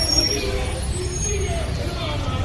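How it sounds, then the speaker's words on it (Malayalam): A bus pulls in at the town bus stand in Uthamapalayam, Tamil Nadu, with a hiss of air brakes over a steady, close engine rumble and broadband street noise. "ബസ്സൊക്കെ വന്ന് വയ്ക്കുന്നുണ്ട്"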